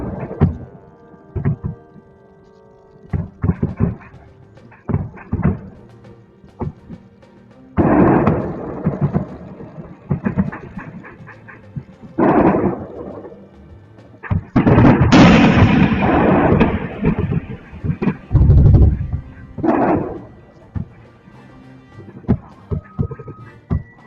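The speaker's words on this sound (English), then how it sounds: "You can clearly see the air-burst ammunition in action, which could point to German Gepard anti-air gun." Air-defense air-burst ammunition firing over Kyiv: a series of irregular, loud booming bursts, some clustered and rumbling with reverberant tails, separated by quieter gaps.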